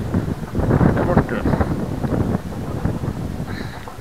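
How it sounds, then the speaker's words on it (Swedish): Gusty wind buffeting a small motorboat on open water, rumbling microphone wind noise that rises and falls in irregular bursts, close and fairly loud with no talking. "Men vad det har blåst här."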